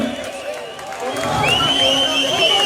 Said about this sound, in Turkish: Şöyle kocaman bir alkış.